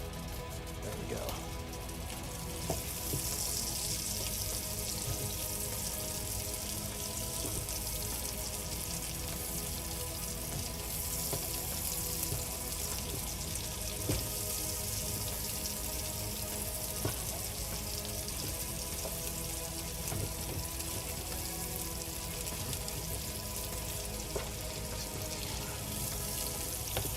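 Jerk stew ingredients saute in a pan with a steady, close sizzle and crackle that runs unbroken at moderate level, with faint talk in the background.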